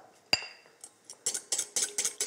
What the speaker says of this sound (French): je mélange mes jaunes d'œufs,